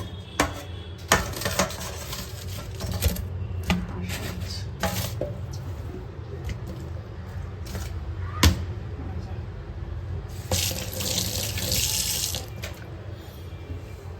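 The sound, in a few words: running tap water washing parshe fish in sink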